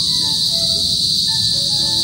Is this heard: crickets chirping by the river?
yes